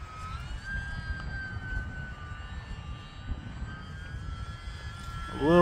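E-flite UMX Pitts S-1S small electric RC airplane flying a loop, its motor buzz rising and falling in pitch as it passes overhead at moderate distance, with outdoor wind rumble underneath.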